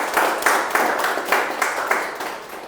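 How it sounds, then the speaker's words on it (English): A short burst of audience applause, steady rhythmic clapping from a small crowd, fairly close and even in loudness, with no talking. "again a big round of applause"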